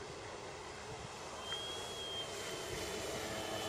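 A Piper J-3 Cub RC model airplane flies a figure of eight overhead, its small engine a faint, steady whine at a distance, slightly louder midway as it passes over a constant outdoor hiss.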